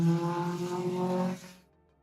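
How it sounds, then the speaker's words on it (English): A video-game car with a cut muffler drones loudly with a rough, buzzing exhaust tone for about a second and a half before cutting off abruptly. "Your car sounds horrible when you do."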